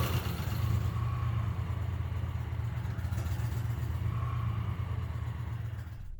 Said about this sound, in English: Start the engine from cold and allow it to idle for 30 seconds.